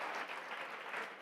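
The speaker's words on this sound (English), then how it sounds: "Let's give a round of applause to that incredible panel" Audience applause at a plenary luncheon after a panel discussion, a brief dense burst of many hands clapping evenly from a fairly close crowd.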